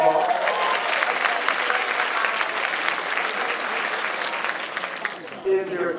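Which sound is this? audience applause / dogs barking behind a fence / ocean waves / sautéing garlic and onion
audience applause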